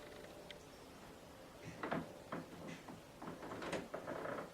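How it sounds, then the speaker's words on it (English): Intermittent knocks, clicks and sliding scrapes from a friend fitting a new shower door in a cottage bathroom, faint and in the background with quiet pauses between the irregular bumps. "I've got a friend putting a new shower door in for me"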